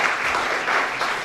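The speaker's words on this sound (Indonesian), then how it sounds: "Yang setuju tepuk tangan bagi Allah" A congregation at a Christmas church service claps together in a short, dense burst of applause that stays loud and even from start to finish, with no talking over it.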